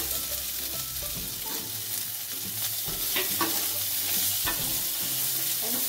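Boiled potatoes and sabudana fry in a pan and are stirred, producing a loud, close, dense sizzle with repeated scraping and knocking strokes of the spoon against the pan, and no speech.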